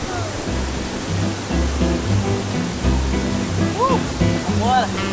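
A waterfall roars steadily on a scenic trail, a broad constant rush that stays loud throughout, with bird-like chirps and faint background sounds layered over it.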